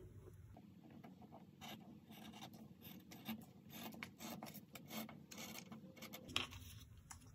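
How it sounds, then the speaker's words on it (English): Scissors cutting through garment fabric, a steady close-up rasping and rubbing that runs for several seconds with no talking. "I'm going to use my scissors for the rest"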